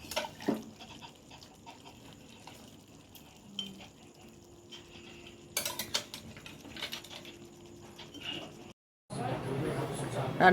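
Pots, pans and cutlery clink and clatter sporadically in a home kitchen while goat meat is cooked, quiet and intermittent, with people talking nearby and a louder burst of clatter near the end.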